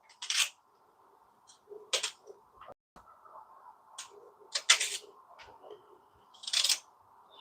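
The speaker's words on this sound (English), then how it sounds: "let me cut the onions" A knife cuts onions on a board in sharp, crisp chops spaced a second or two apart, with quiet handling noise between strokes.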